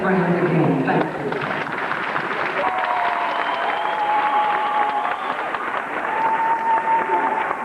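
A graduation ceremony audience at PCHS claps for honored guests, a broad, steady wash of applause that stays even throughout, with a voice briefly audible near the start.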